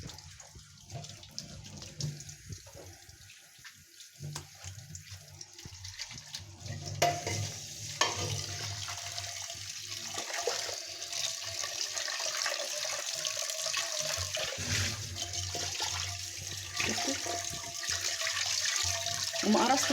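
Tap water runs steadily into a sink while an aluminium pot is scrubbed and rinsed, a continuous splashing wash with scattered clinks and a faint voice in the background.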